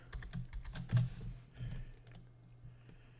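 Someone types a password on a computer keyboard, a quiet close cluster of quick key clicks with uneven spacing that thins out toward the end.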